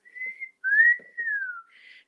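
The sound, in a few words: person whistling a special whistle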